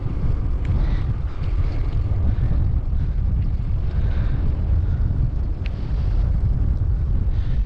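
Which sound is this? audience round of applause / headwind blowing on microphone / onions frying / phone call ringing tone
headwind blowing on microphone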